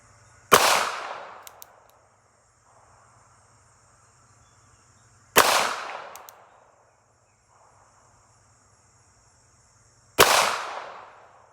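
Three sharp, loud pistol shots from a Smith and Wesson Bodyguard .380 ring out about five seconds apart, each decaying quickly, with faint insect-like chirping in the quiet gaps between them.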